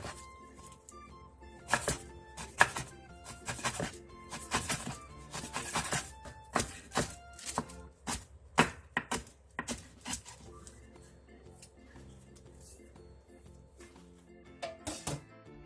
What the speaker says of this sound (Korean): 묵은지 한 줌을 잘게 썰어주세요.